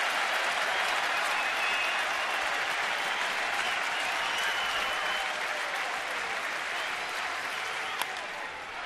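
A baseball stadium crowd on its feet at a New York Yankees at Washington game, a loud continuous roar of cheering and clapping that holds steady throughout.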